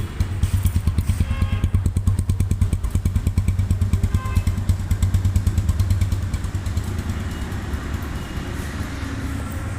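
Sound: motorcycle engine running, sound check at bike showroom

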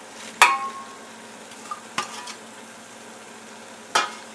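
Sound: stirring mint and coriander leaves into frying paneer biryani

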